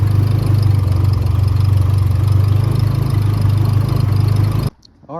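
A Nissan 240SX S13 with a KA24E turbo engine idles steadily and loudly up close, with a broken eBay gasket causing an exhaust leak, its even rumble running unbroken for almost five seconds before cutting off abruptly.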